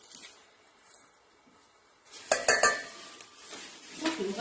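Sugar spooned onto mango pieces in a casserole dish, a few close metallic scrapes and clinks of a spoon against the dish after a quiet start, with soft rustling.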